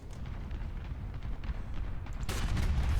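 A tank cannon firing in War Thunder, with low rumbling booms and a sharp loud blast near the end over continuous battle noise.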